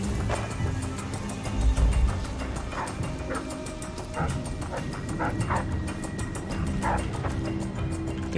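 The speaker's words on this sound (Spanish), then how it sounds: "Podría soltar a los perros." Dogs bark in a scene from the video game Dishonored: Death of the Outsider, several short yips and barks repeating against steady ambient game noise and hoofbeat-like clatter.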